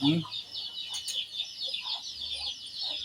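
Chickens cluck softly nearby in the rural Philippines over a constant high insect-like background hum, with occasional faint voices.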